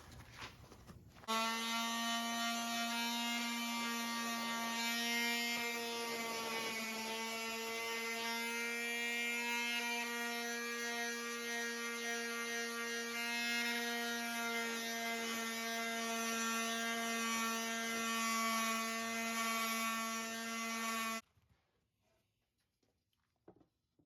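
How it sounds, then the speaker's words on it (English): A sander works over a fabricated metal station buck, giving a steady high-pitched whine rich in harmonic tones that runs unbroken for about twenty seconds at close range, then cuts off abruptly. "So now I'll come through, I'll give it a little bit of a sanding and try to clean it up a little bit."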